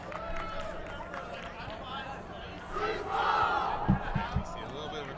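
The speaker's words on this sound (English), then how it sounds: "Carleton cheer was too slow." A team cheer at a Quadball Canada Nationals match rises as a crowd-shouted chant over field noise, swelling in the second half with a few sharp thumps near the end, heard at some distance.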